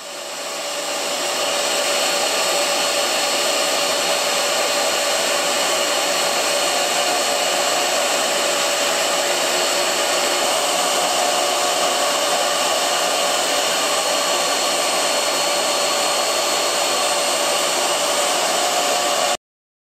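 Shaper Origin handheld CNC router carving a foam Systainer insert, a steady continuous high-pitched whine that holds level and close for the whole stretch with no pauses.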